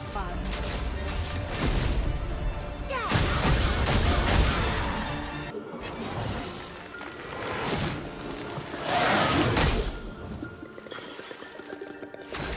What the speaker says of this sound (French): il faut que je tire dans le bon ordre sur ces lampes